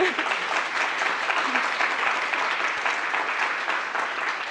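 Steady applause from an audience at a computer graphics rendering competition award, a dense sustained wash of clapping that holds evenly throughout with no voices rising above it.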